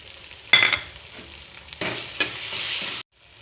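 Five-spice seeds and turmeric hit hot oil in an Assamese fish curry, giving a sharp sizzle burst, then a quieter stretch and a second loud sizzle that holds before cutting off abruptly.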